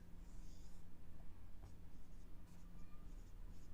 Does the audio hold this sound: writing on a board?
yes